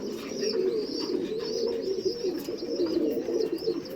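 A flock of mixed Madrasi and Malabai breed pigeons coos close by, low throaty calls rolling and overlapping steadily with faint chirps above, and no one speaking.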